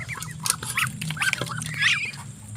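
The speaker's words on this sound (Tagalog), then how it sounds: "gusto po mag-avail ng ating mga alagang bibe." Ducks quack repeatedly in a lively, overlapping chorus, with a steady low hum of background noise throughout.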